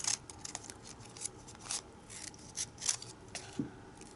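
Scissors snip through a strip of folded tape in several quick, quiet cuts spread over a few seconds, close up and with no talking.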